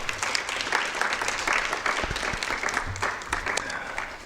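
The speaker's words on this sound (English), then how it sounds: "So can we also give him another round of applause?" A round of applause from the audience at a clinical ethics event on nursing, law and liability, a continuous wash of many people clapping at moderate loudness for the whole stretch.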